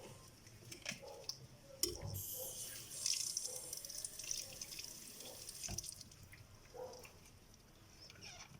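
Tap water runs over lab glassware being rinsed, a faint, steady splashing flow broken by a few louder drips and knocks, with no voices.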